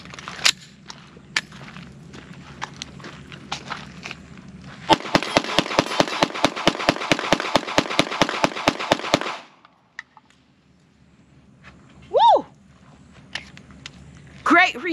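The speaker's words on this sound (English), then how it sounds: "And I did say we were shooting MagTech 124 grain." A Springfield Armory Echelon pistol fires MagTech 124 grain ammunition in a rapid string of about twenty sharp, loud shots over four seconds, followed by quieter handling sounds and a brief voice.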